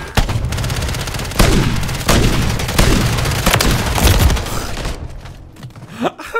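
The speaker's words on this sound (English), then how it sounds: "don't know how I missed those three shots" Rapid gunshots from a Jak Wardens weapon in a shooter video game, bursts of loud close firing with sharp repeated cracks, stopping near the end.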